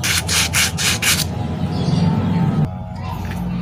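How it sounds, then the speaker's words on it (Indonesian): Sandpaper rubs against a Shimizu water pump that has stopped turning, giving loud close scratchy strokes: several quick rhythmic rubs at first, then a longer continuous grind. "Ini saya menggunakan amplas seperti ini."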